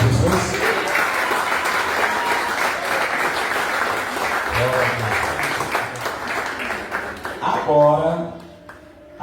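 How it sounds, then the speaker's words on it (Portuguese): A church congregation at a year-end fellowship gathering applauds in a dense, sustained wave of clapping lasting several seconds before it thins out. A voice speaks over it near the end. "Aplauda Jesus."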